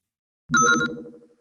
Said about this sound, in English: Sounds like I've got a message on the vid phone